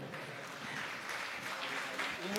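Audience applause at a jayanti music event welcoming a doctor guest, a continuous dense patter of clapping heard at moderate distance for a couple of seconds.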